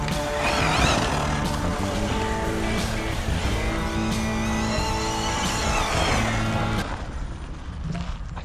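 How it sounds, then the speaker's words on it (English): A 6S brushless RC car with a budget ESC and motor runs on a full battery pack. Its motor whines and rises and falls in pitch as the car accelerates and slows, loud and continuous, and tails off near the end. "I've got a full pack here, so I'm gonna have a little blast around with this car."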